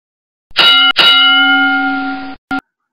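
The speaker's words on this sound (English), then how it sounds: "Oh, we've been beaten by the bell there, Martin." A bell ringing to close an interview: two quick metallic clangs blend into one sustained bright ring that fades slowly, then a short final ding, loud and close with no talking.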